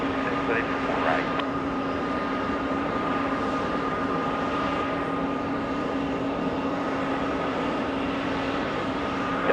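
Airliners arrive and depart at JFK airport, heard as a steady, continuous jet roar with a low hum, while radio voices talk over it throughout.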